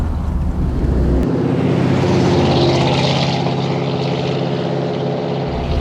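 Loud, continuous engine roar with a deep rumbling exhaust from a Squarebody Chevy truck with a new Flowmaster dual exhaust, building steadily as it accelerates past, with no talk.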